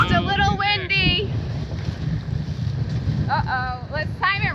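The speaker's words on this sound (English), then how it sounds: "The wind is absolutely pumping." Heavy wind roars steadily across the microphone on a sailboat in New Zealand with rushing water beneath, while voices speak intermittently at the start and end.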